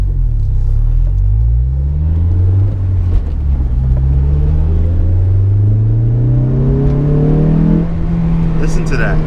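A Honda S2000 convertible engine revs and accelerates, its deep roar rising steadily in pitch through the gears, loud and close, with no one talking.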